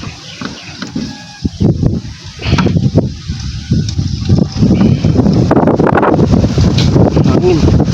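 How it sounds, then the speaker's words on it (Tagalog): Wind buffeting a microphone outdoors, a rough low rumble that swells and gusts unevenly, growing louder and steadier through the second half, with a few faint voices underneath. "Hangin"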